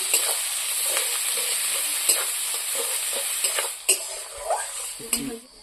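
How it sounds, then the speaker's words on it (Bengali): Chopped onions fry in oil with black cumin seeds, sizzling steadily while a utensil stirs and knocks against the pan a few times, close up; a voice briefly speaks. "পেঁয়াজ কুচি, পেঁয়াজ ভালো করে ভেজে নেব"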